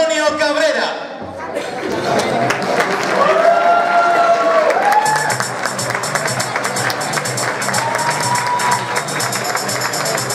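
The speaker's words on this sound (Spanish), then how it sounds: "Mira que vaya mierda de aplauso que me dieron" Audience applause and cheering for comedian Juan Antonio Cabrera as he takes the stage at a TV show, steady clapping from a large crowd with music playing over it after a brief spoken introduction.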